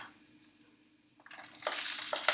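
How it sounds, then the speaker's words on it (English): Toad in the hole batter poured into a hot glass dish starts to cook, a quiet lead-in giving way to a loud, close, steady sizzling hiss with a few crackling bursts. "You can hear it starting to cook straight away."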